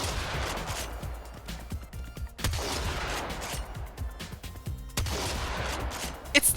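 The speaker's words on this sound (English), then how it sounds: "listen to the Corinth and tell me that it doesn't sound a million times better" The Corinth shotgun in the Warframe video game fires a series of sharp, punchy blasts with short irregular gaps, mixed with clacking pump and reload mechanics, loud and close.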